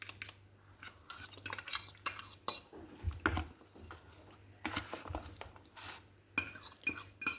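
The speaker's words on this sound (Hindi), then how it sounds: "अच्छी तरह से इसको मिक्स कर लें।" Chicken marinated in yogurt and spices stirred for biryani, with repeated metal utensil clinks and scrapes against a pot in uneven bursts over a quiet background.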